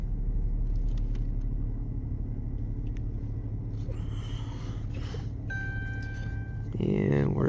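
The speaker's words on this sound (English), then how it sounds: "Vehicle starts and runs." A 2013 Dodge Charger engine runs at a steady, low idle rumble throughout, with a few brief electronic chime tones rising near the end.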